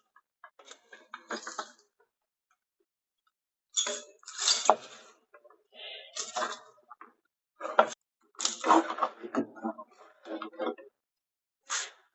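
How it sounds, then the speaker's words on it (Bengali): A spoon scrapes and clinks against a pan while caramel-coated popcorn is stirred over a low flame, in short, close, rattling bursts separated by brief silent pauses. "তো এখন আমরা যত দ্রুত সম্ভব এটাকে চামচের মাধ্যমে নেড়ে প্রত্যেকটা আলাদা করে নেব"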